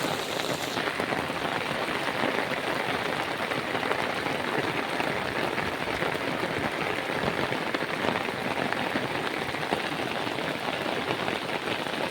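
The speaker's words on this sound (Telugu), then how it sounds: "అది భారీ వర్షాలు అయితే పడుతున్నాయి ఫ్రెండ్స్" A downpour of heavy rain over Hyderabad hisses and patters steadily on nearby surfaces, a constant close wash of drops with no break and no speech.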